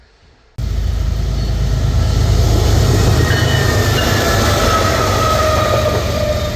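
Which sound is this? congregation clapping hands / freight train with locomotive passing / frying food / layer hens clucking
freight train with locomotive passing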